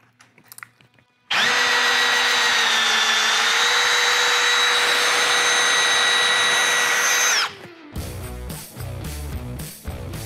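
A power drill runs steadily at high speed for about six seconds, driving a screw extractor into a fastener, with a tonal whine that stops abruptly and gives way to clattering handling noise.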